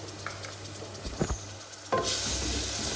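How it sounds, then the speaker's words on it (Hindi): Garlic ginger paste drops into hot oil in a karahi with a wet patter and a few stirring scrapes, then bursts into a loud, steady sizzle as it starts frying. "इसमें जी हम डालेंगे लहसुन अदरक का पेस्ट 1 टेबल स्पून भर के"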